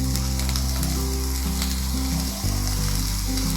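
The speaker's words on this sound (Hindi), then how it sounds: "धनिया डालने के बाद में इसे हमने थोड़ा सा और चला लिया है।" Soya bhurji frying in a pan as chopped coriander is stirred through, giving a constant loud sizzle with a steady low hum underneath and a brief dip partway through.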